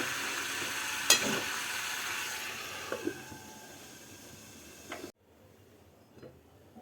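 A mixed winter vegetable curry in a pan, finished with ghee and coriander leaves, sizzles softly while a spoon scrapes and stirs in a few distinct strokes before the sound drops away abruptly.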